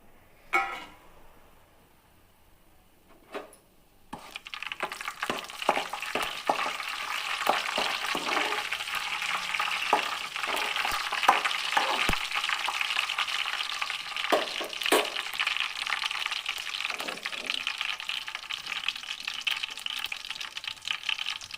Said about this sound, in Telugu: పోపుకు సరిపడా ఆయిల్ వేసి, తర్వాత ఇందులోని ఆవాలు, జీలకర్ర, మెంతులు వేసి బాగా వేపాలి.